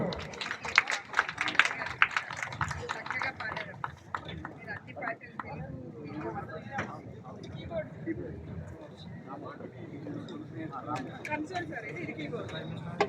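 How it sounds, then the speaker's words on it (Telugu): An audience claps at an award ceremony held for a Louis Braille birth anniversary celebration, with a lively round of applause that starts strong, thins into scattered claps, and keeps going under someone speaking over a loudspeaker. "చప్పట్లతో."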